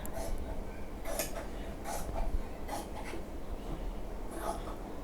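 Fried chillies being ground on a shil-pata grinding stone, heard as repeated rough scraping rasps in a steady back-and-forth rhythm, close and moderately loud, with no talking.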